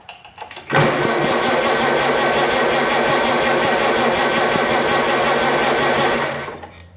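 A 70-year-old Farmall Cub tractor engine cranks briefly, catches and settles into a loud, steady close-up idle chug, then dies away at the end.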